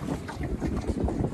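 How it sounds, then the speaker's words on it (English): Wind gusts across open water on a lake while a small reefed sailboat is underway, a close, rough buffeting rush against the microphone that lasts just over a second. "Wind is blowing pretty good."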